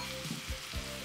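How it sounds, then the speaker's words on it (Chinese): Hot Sichuan peppercorn oil is poured over minced garlic and red chili powder in a bowl while being stirred, producing a close, steady sizzle with a couple of soft low thumps. "再泼上热好的花椒油，边倒边搅拌"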